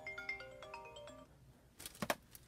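A phone plays a melodic ringtone for an incoming call, a rapid run of electronic tones lasting about a second, followed by a couple of sharp handling clicks, faint in a quiet room.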